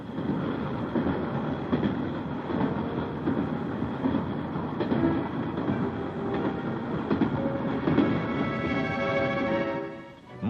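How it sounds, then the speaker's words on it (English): A train rumbles steadily with a rolling clatter of wheels on rails as it travels out into West Berlin, loud and continuous, with faint squeals rising near the end. "as the train emerged into the light of West Berlin"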